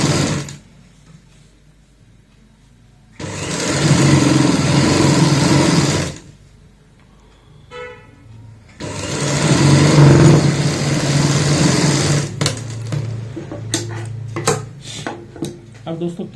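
A sewing machine stitches fabric pieces of a baby frock in two loud, steady runs of rapid whirring, each a few seconds long, with quiet gaps between them and light handling clicks at the end.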